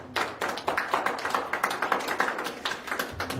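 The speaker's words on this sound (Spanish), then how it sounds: "También lo recibimos con un fuerte voto de aplausos" Applause at a formal ceremony of a Candelaria festival event, heard as a moderate, fairly sparse patter of individual claps that continues evenly throughout with no voices.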